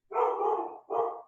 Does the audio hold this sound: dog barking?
yes